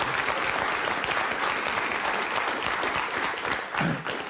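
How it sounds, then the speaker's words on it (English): Loud, sustained applause from a large crowd, dense clapping that continues throughout and dips slightly near the end. "Yeah, we can applaud that."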